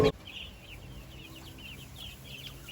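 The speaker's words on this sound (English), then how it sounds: "Oh, wonderful hens." Hens being raised near a plant and flower market in Pattaya, clucking softly in a series of short, repeated calls over a steady low background hum, with no talking.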